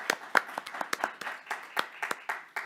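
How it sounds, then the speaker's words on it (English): A room of people at a city council meeting applauds the district champion high school boys team, steady overlapping claps with sharp individual hits, fairly close and lasting a few seconds. "I think that deserves a round of applause."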